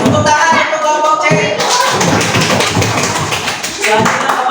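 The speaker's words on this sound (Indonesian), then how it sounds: "Tepuk tangan untuk kelompok C." Group applause in a classroom teaching-practice session, as a crowd of students claps for a presenting group: dense, loud, continuous clapping for several seconds, with voices mixed into the clatter.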